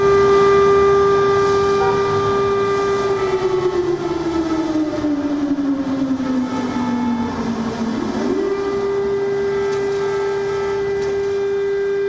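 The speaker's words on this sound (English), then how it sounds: "Air raid sirens were sounded across the country." An air raid siren sounds in Ukraine, holding one long wailing tone that sags lower, then swings back up to its steady pitch, heard alone and fairly loud.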